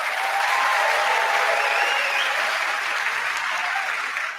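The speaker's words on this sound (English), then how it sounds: "round of applause for all of our participants" Debate participants receive a dense, continuous round of applause from a crowd, steady and fairly loud throughout before easing slightly at the end.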